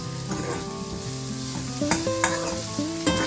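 Spice tempering crackles and sizzles continuously in hot oil for a Kannada masoppu saru, with sharp spits popping out at intervals beneath steady tonal background music.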